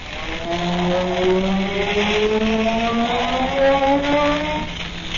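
An eerie magic ray effect from an old radio-style drama: steady wavering tones that slowly glide upward in pitch, layered over a rushing hiss, sustained and fairly loud for several seconds with no talk.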